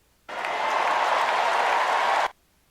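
An audience claps in a burst of applause that starts abruptly, holds at an even, dense level for about two seconds, then cuts off sharply.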